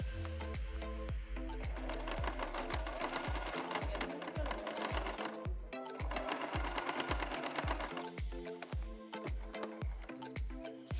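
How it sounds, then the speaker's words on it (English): A sewing machine stitches the folded sides of a fabric bag in a steady rapid chatter, close and clear, with brief pauses and changes in speed throughout. "sew on the sides where it is folded"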